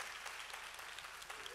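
Audience clapping at a church service for newcomers, a steady, dense round of applause filling the space from start to finish with no voices over it.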